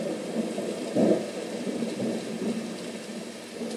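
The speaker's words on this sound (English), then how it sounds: "Oh, a thunderstorm." Rain falls steadily in a thunderstorm, with a dull rumble of thunder swelling briefly near the middle, a continuous wash of hiss and patter with no voices.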